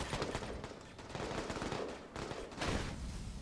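Sustained gunfire from the war strategy game Army Men of War, dense overlapping bursts of machine-gun fire and shots rolling on continuously with no pause.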